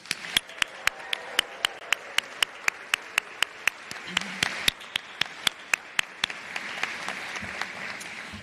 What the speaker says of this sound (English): Let's have a round of applause for these phenomenal students